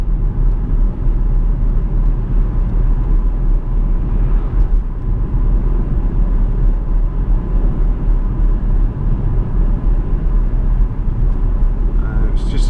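Jaguar XF 5.0 V8 S saloon driving along a 50 mph road near Samlesbury, a steady low cabin rumble of engine and tyres lasting throughout, with someone talking over it.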